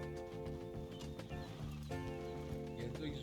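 Horse hooves clopping with a possible whinny in the Red Dead Online video game, set against steady in-game music and ambience, loud and continuous throughout.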